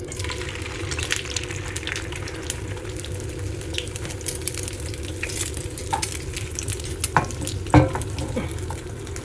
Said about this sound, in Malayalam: അതിലേക്ക് കുറച്ച് മുട്ട വെച്ച് കൊടുക്കാം